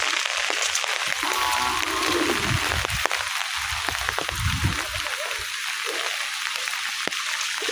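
Heavy, steady rain pours down in a village during a prolonged downpour, a dense continuous hiss of falling water close by with no voices.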